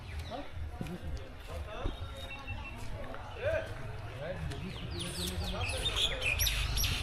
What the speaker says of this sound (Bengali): এখানে অনেক পাখিদের ডাক